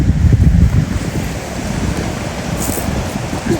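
Rushing mountain stream water in the Partnach Gorge, a steady broadband roar of flowing water with gusty low rumble, continuous and fairly loud with no speech.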